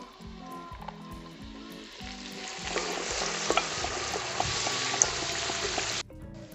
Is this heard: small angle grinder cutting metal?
no